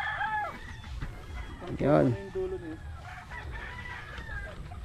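Free-range hens and roosters on a Filipino farm, with clucking and a loud crow-like call near the middle, partly under a man's speech and background noise.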